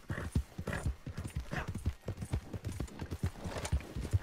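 A horse in Red Dead Redemption 2 clip-clops in a quick steady rhythm of hoof strikes, close and fairly loud, with a faint whinny mixed in.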